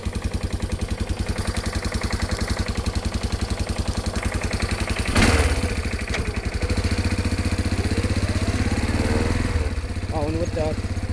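A 1990 Yamaha Big Bear 350 ATV engine idles steadily just after starting, a close, loud, even putter with a brief rise in revs midway and someone speaking over it.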